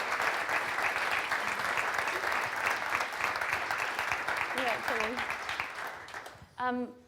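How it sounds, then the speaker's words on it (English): Sustained audience applause fills a conference hall at a tech talk on bionic limbs, dense and steady for about six seconds before fading, with a brief spoken exchange near the end. "We give them a clap."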